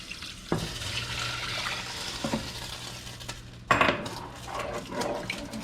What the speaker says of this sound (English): Now we're adding in our water.